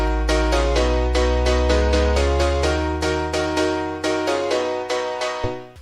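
Future house instruments with a high-pass filter automated across them: bright chopped chords pulse in a steady rhythm while a deep low bass drone gradually thins out and drops away near the end.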